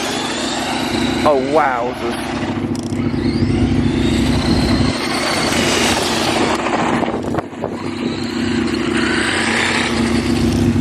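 An RC car converted from brushed to brushless, a Ramraider running on a 3S LiPo battery, gives a steady loud electric whine with brief pitch swings while someone talks over it.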